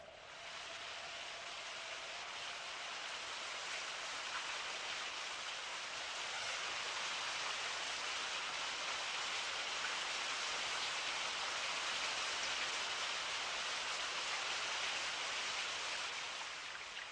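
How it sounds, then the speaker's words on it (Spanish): Steady rain falls in the Petra desert, a dense, even hiss of drops that holds at a constant level from start to end with no voices. "en Petra llueve"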